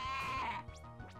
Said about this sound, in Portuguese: Uma ovelha, né? Usou a voz da ovelha para criar o nome.